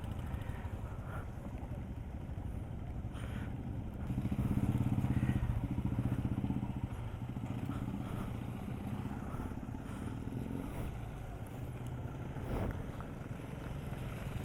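A motorcycle engine drones steadily at close range during a rainy group ride near Kudremukh, India, swelling louder for a few seconds mid-way, with wind rushing over the microphone.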